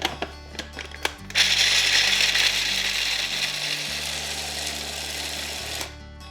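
A small food processor chops cashew nuts and coconut chunks: a few clicks, then a loud steady whirring grind with rattling pieces for about five seconds before it cuts off, close up with no voices.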